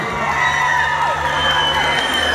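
A concert crowd in Berane cheers and applauds a four-piece band, loud whoops and shouts over a thick bed of clapping, with a steady tone humming underneath.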